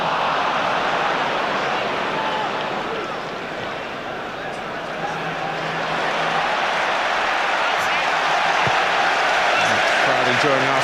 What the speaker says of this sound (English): Crowd enjoying Arsenal trying to win the ball in Manchester United territory.